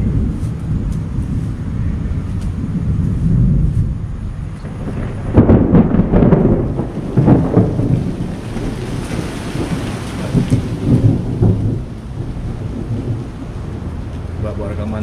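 Heavy rain pours steadily at night while thunder rolls and rumbles loudly through the middle, a deep sustained growl swelling and fading over the constant hiss of falling water.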